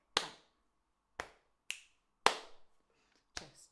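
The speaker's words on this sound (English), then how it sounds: "in between, you're just going to do a click, click, clap." Crisp finger clicks and hand claps in a sparse rhythm pattern, five sharp separate hits spaced unevenly across a few seconds, close and dry with silence between them.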